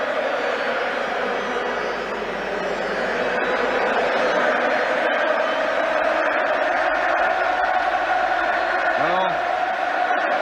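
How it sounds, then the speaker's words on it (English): Football stadium crowd at an England versus Northern Ireland qualifier roars continuously, a dense, loud wall of cheering and whooping that stays steady throughout, with a commentator briefly speaking over it. "the crowd are really excited now"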